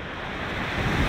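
Sea waves break and rush on the Irish coast at Banna, a loud, dense roar of surf with wind buffeting the microphone, close by and continuous, with no voices.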